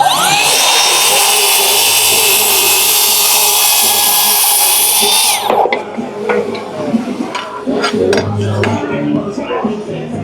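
A cordless saw fitted with a Diablo 7 1/4-inch 60-tooth blade cuts slowly and cleanly, giving a loud, steady high whine for about five seconds that stops sharply, followed by quieter handling noises and faint talk.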